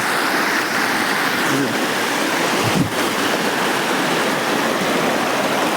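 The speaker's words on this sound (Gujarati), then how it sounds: "ઝરણાનો પણ અવાજ આવે છે" Continuous rushing of flowing mountain stream water near a waterfall, a constant broadband wash with no pauses, loud and close.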